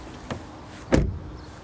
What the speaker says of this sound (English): the door closing sound